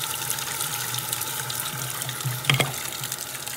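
Washing machine tub filling with water, a steady loud rush of incoming water with a low hum underneath and a brief knock or splash partway, close and continuous, no speech.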